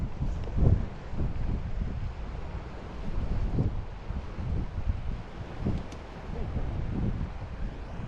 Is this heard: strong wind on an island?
yes